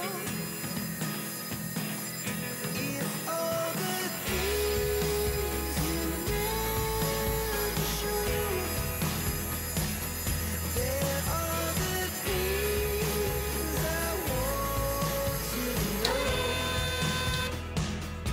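A 3D-printed robotic actuator driven by a DIY ESC spins its motor up toward top speed, giving a steady mechanical whine that climbs and shifts in pitch throughout.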